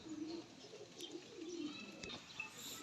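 A pair of pigeons coos softly at a distance, low rolling calls repeating in short phrases over a faint hiss of background noise.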